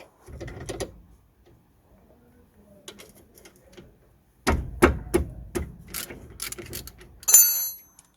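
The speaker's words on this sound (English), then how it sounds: "14mm socket to undo the bolts." A 14mm socket on a ratchet undoes the brake caliper bolts of a Suzuki Vitara: bursts of close metallic clicking and clanking, a quieter stretch in the middle, then a denser run of sharp ratchet ticks near the end.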